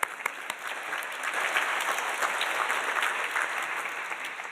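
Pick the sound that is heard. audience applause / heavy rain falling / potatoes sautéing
audience applause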